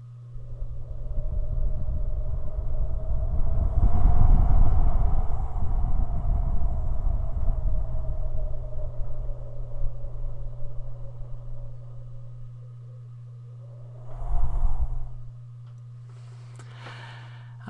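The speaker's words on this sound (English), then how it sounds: "Here's the sound of the wind when we have blizzards." Blizzard wind heard from inside a house: a steady low howl with a rising and falling whistling tone, swelling around the middle, easing off, then a brief second gust before fading to a quieter drone with a few rustles.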